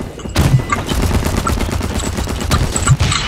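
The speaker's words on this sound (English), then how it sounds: "I got sniped" Sustained video game gunfire in a team shooter match, a dense, loud barrage of rapid shots and cracks, including sniper fire, continuing without pause across the whole stretch, with no talking.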